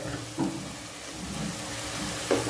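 Chopped onions fry in a pan for a chickpea kofta curry, a steady soft sizzle throughout with a couple of brief stirring scrapes and no talking.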